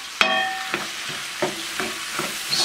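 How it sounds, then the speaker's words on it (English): A spoon stirs canned tomatoes and a bay leaf in a pot for Swiss steak, making a sharp clink at the start. A few soft scraping strokes and light knocks follow at an irregular pace. "Stir it all up."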